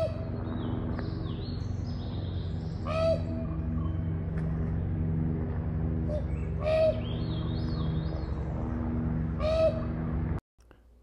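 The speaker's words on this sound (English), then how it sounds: "And listen to this bird, or something." A bird calls from the trees in Juneau, Alaska, in short rising-and-falling phrases, repeated several times over a steady low background hum.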